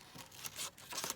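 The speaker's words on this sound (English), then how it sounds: "just cutting this butterfly out" Scissors snip and crinkle through paper while a butterfly shape is cut out, a run of soft, close crisp cuts and rustles with brief pauses, no talking.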